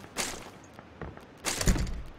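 Two sharp bursts of gunfire crack out, one short shot early and a louder, longer volley near the end, with a dull background in between.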